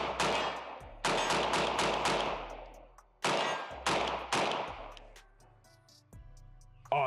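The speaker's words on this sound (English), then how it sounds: "We are shooting some black tip PSA 300 blackout ammo." A Sig MCX Ranch rifle fires black tip PSA 300 Blackout ammunition outdoors. Several loud, sharp shots come in quick pairs and short strings, each followed by a trailing echo, with a brief pause between the groups.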